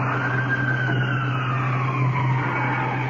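An ambulance siren wails steadily and loudly, a long continuous tone sliding slowly downward with a low engine drone beneath it, heard close and alone without voices.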